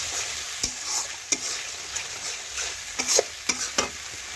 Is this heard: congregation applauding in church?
no